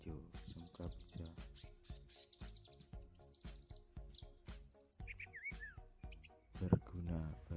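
A young wild-caught green leafbird (cucak hijau) kept for taming gives thin, high chirps and short whistled trills, fairly faint, while someone talks steadily close by.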